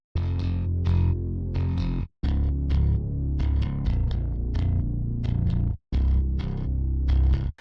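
Side-chained synth bass layered with a second bass, a thick, loud, distorted low end with rhythmic chopped accents and two brief full dropouts, no voices.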